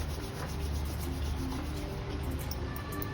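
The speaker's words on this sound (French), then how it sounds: "On frotte à nouveau les mains" Palms rub briskly together in a continuous dry, swishing friction, close and fairly quiet, during a qi gong sun routine.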